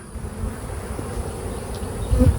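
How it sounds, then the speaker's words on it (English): Honey bees buzz around a hive box in a dense, steady drone of many insects close by, with faint handling noises near the end. "Look at this new queen, just busting at the seams with bees."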